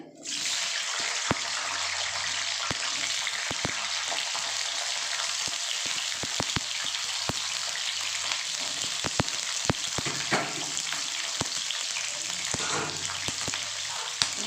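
Large chunks of capsicum frying in hot oil with a little salt, a steady broadband sizzle running throughout, with faint clicks from a utensil and no talk.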